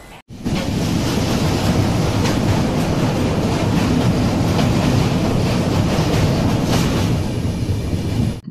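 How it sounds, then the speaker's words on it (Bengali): Saraighat Express, an Indian long-distance passenger train from Howrah toward Guwahati, at Malda Town station, heard as a loud, steady rumble and rush of rolling coaches that runs continuously without talk. "নির্ধারিত সময় থেকে 10 মিনিট আগে ট্রেন এসে পৌঁছালো মালদা টাউনে।"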